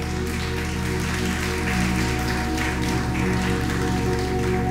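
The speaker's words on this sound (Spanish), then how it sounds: "Ese aplauso al Rey Soberano" Sustained congregation applause fills a church service, a dense steady patter of clapping over a low organ or keyboard drone, continuous and fairly loud throughout.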